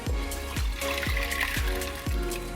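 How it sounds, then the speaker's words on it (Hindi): Soaked lentils are poured into a pressure cooker in a home kitchen, giving a wet, trickling pour broken by a few soft, regular thuds as portions drop in. "तो अब हम दाल को प्रेशर कुकर में डाल रहे हैं।"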